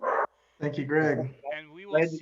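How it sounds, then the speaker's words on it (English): Dogs bark and yip near a microphone in short loud outbursts, with people talking in between and alongside. "Sorry about my dogs, folks."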